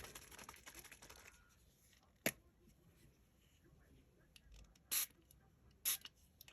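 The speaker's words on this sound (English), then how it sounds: "So I'm going to spray my mica powder onto my mat." Two quick, sharp hissing squirts of mica powder from a spray bottle onto a mat, close and crisp, after an earlier single spritz, in an otherwise quiet room following some handling noise.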